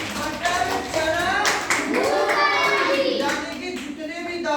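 Children in a classroom clap in scattered, uneven bursts, close by, mixed with a teacher's voice and children's chatter.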